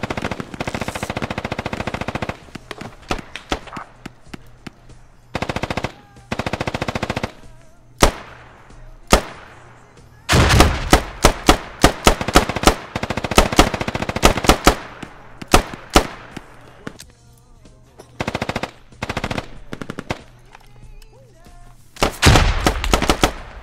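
Gunfire in the video game Squad: loud, close bursts of automatic fire alternate with single shots and quieter distant volleys, in irregular clusters with brief pauses between them.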